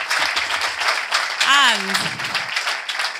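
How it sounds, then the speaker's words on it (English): Warm audience applause closing a conference talk on Web3, a broad clapping texture running beneath a man's speech, with a brief rising and falling tonal sweep partway through. "But please, very, very warm round of applause"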